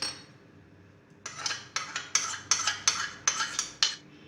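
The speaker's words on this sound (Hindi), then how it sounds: "अब इन सारी चीज़ों को अच्छी तरह मिक्स करेंगे।" A utensil mixes sauces, vinegar and chili garlic sauce in a bowl for hot and sour soup. After a quiet second, about eight rhythmic, bright clinking strokes follow close by.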